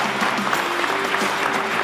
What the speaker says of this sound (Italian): un grandissimo applauso anche per loro